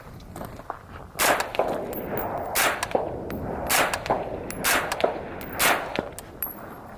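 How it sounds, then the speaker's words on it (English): A suppressed .223 rifle fitted with a Surefire Socom RC2 suppressor fires Armscore 55 grain ammunition. About six muffled, sharp shots come at irregular intervals over a steady outdoor background, with no talk. "We're gonna try that Armscore 223 55 grain just to see if there's a noticeable difference between the 62 and that"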